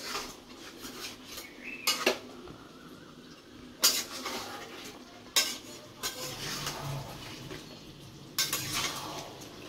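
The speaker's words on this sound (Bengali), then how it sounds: "চিকেন রান্না করছি" Chicken being stirred in a pan with a utensil, giving sharp, close metallic scrapes and clatters at irregular intervals over a soft, continuous sizzle, with no talking.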